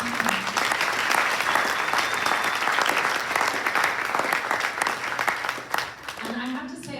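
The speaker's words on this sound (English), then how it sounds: "I just want to give you all a round of applause" An event audience gives a round of applause: dense, loud clapping fills the space for several seconds, then fades as a voice begins speaking near the end.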